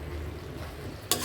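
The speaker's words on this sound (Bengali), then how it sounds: "এখন আমরা এতে সামান্য টমেটো কুচি দিয়ে দেবো।" Chopped tomato drops into a pan of sizzling shutki (dried fish) and bean curry, giving a sudden bright burst of frying sizzle near the end after a steady low simmering hiss.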